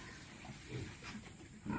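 Pigs on a small Bicol backyard farm grunt in low bursts, several snorts close by amid steady noisy farm background.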